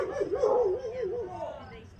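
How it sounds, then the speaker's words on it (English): A dog makes noise nearby at an outdoor gathering, a brief whining, wavering vocal cry heard close and fairly loud. "The dog's over there making noise."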